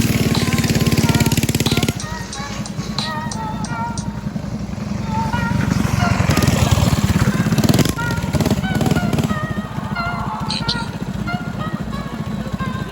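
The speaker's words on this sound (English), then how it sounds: "So we took it out to the track and did some racing, me and Jit." A Coleman BT200X minibike fitted with a Predator 212 hemi engine races on a track, its small single-cylinder engine droning loud and steady close by, revving up and easing off, with a faint whine on top.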